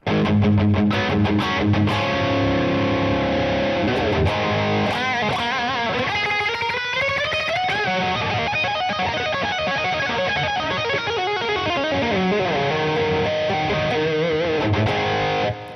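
Electric guitar played through a Line 6 Helix amp modeler with an 808 overdrive pedal switched on, giving loud, sustained distorted chords and bending notes that ring continuously, alone without talk.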